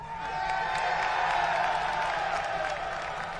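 An arena crowd at Madison Square Garden for a UFC 268 event keeps up a loud, steady roar of cheering and applause, with a voice faintly underneath.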